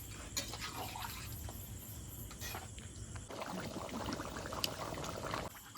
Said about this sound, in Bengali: অল্প জল দিয়ে এখন একটু খানিকক্ষণ জাল হতে থাকবে